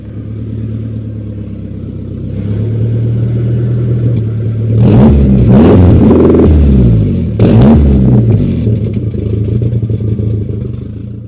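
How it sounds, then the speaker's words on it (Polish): A car engine revs through a sporty exhaust welded at home, idling low, then rising into two loud, raspy bursts of throttle before settling back to a steady rumble, close and with no talk. "udało się też zrobić wydech taki bardziej sportowy"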